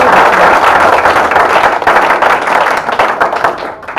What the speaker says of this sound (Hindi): एक बार इनके संचालन के लिए बहुत जोरदार तालियां बजा दीजिए